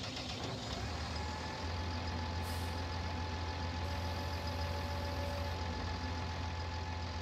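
A tractor engine in Farming Simulator 19 rumbles steadily at a low idle while being unloaded from a trailer down ramps, with faint tonal beeps over a continuous drone and no talking.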